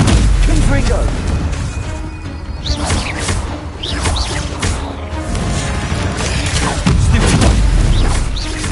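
In Hogwarts Legacy, Confringo blasting curses go off amid a chaotic fight: repeated heavy booms, crashes and whooshes, loud and continuous, with shouting voices mixed in.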